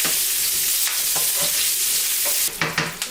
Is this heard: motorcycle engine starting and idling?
no